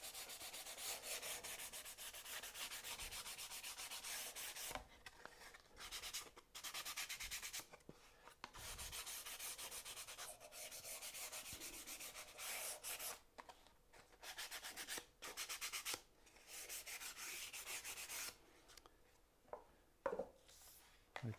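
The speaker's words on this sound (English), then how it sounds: "So a little bit of sandpaper first, just to tidy up the edges. A little piece of 180." Hand sanding with a small piece of 180-grit sandpaper tidies the edges of a wooden wall cabinet part. Steady close rubbing strokes run throughout, with brief pauses between passes and no talk.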